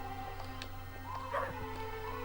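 A dog whimpers and yips in short, thin whines over a steady electronic hum and background music in the PS1 video game Chicken Run.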